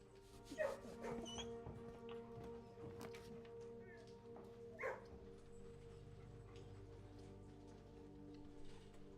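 Dogs in a kennel in the video game Blue Prince, a few scattered barks over a quiet layer of steady rain-like background and game ambience, with a voice talking now and then.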